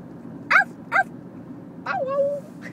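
A person imitates a dog with a few short barking sounds, then a longer drawn-out howl-like yelp, close up over a low background hum.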